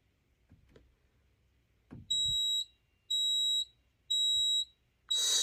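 A ceiling smoke detector set off by haze from a fog machine sounds three loud, evenly spaced high-pitched beeps and starts a fourth, after a few soft indoor knocks.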